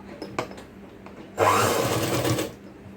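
A household sewing machine stitching green lace whirs steadily for about a second after a few light clicks and taps, close and fairly loud, with no talk.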